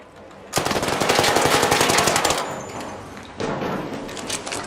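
Loud, close bursts of automatic gunfire, one long rapid string followed by a second shorter burst after a brief gap.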